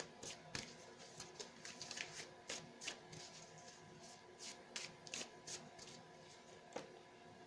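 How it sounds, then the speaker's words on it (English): Tarot cards are shuffled and pulled by hand, with quick riffling bursts and crisp snaps of card stock repeating close up at low volume, no voices over them. "So let's pull a few more cards for you guys."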